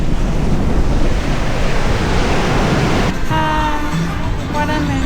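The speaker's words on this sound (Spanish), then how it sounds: "Que esa ola viene grande, ¿eh?" Heavy surf crashes continuously on a Cancún beach, a big ocean wave breaking with loud, broadband roar and wind buffeting the microphone, then a softer wash as the water runs back.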